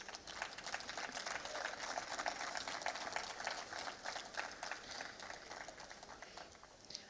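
An audience at a felicitation ceremony applauds the 1996 batch with dense, continuous clapping that stays fairly faint and even, thinning slightly toward the end, with no clear talk over it.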